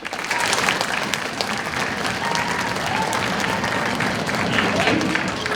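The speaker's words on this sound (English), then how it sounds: "Round of applause." Audience at a 5th grade school band winter concert applauds, a full, sustained roar of many hands clapping with faint crowd murmur, steady and loud throughout.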